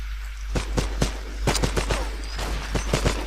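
Rapid gunfire from the shooter game Terrorist Takedown rattles off in quick bursts, sharp close shots in an uneven rhythm over low background rumble.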